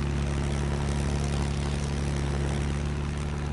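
A stunt plane's propeller engine drones in the UltraWings VR game, a loud, continuous steady hum with a strong low buzz, unbroken throughout.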